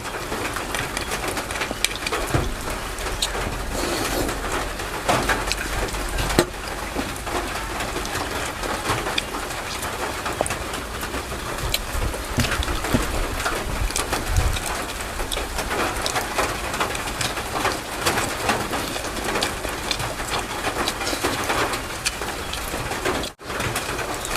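The first rain of the year patters steadily and densely on surfaces, with doves cooing and other birds calling now and then in the background. There is no talking.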